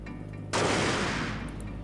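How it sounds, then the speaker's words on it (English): A single sharp gunshot cracks out of quiet ambience in the visual novel game MOON, followed by a long decaying boom that fades over about a second. "Another gunshot."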